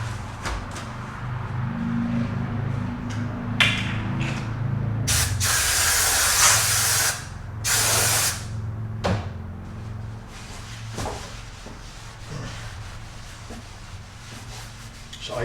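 Degreaser sprayed onto a BMW M3 F82 brake caliper in two loud, close hissing bursts of about two seconds each, framed by clunks and light handling knocks in a quiet workshop.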